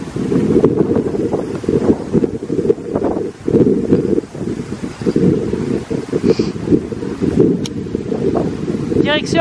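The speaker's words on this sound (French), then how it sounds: "il y a un peu de vent, hein." Gusty wind buffets the microphone on a hiking trail near the Aiguilles de Valbelle in the Var, a rough rumbling roar that swells and dips, with faint footsteps and a voice speaking briefly.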